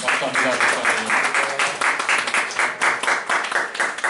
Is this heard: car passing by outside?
no